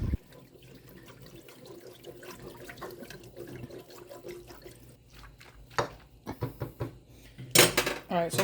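A whisk scrapes and clatters against a metal pot while breaking up lumps of roux for a sour cream sauce, steady scraping at first, then louder irregular clanks and knocks toward the end.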